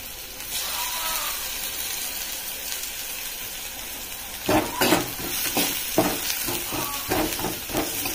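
Chili powder being stirred into frying onions for an egg fry, a steady sizzle with scraping spoon strokes growing louder and more rhythmic midway, no voices.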